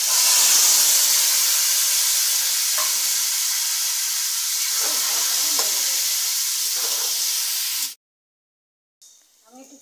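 Taro leaves hit hot oil tempered with dried red chillies, bay leaf and nigella seeds, giving a loud, steady sizzling hiss with a few stirring scrapes that cuts off abruptly, followed by faint sound.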